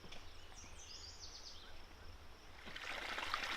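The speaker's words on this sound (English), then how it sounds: "Here is the spring on Josie's land." Spring water trickling along a diverted channel on ranch land near Dinosaur National Monument, a faint steady outdoor wash with a few bird calls over it, growing slightly louder toward the end.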